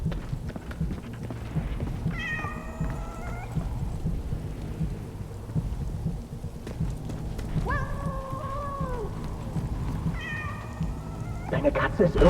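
Set among rain and rumbling thunder in the war game 11-11 Memories Retold, a frightened cat gives three drawn-out meows spaced several seconds apart, moderately close against the steady storm.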